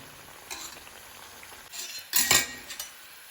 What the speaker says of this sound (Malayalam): ഇടയ്ക്കൊന്ന് നമ്മൾ ഇളക്കി കൊടുക്കണം.